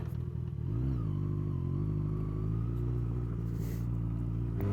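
A motorcycle rides around town, its engine rumbling close up. The revs rise briefly, then settle into a steady low drone with faint clatter, and no talk.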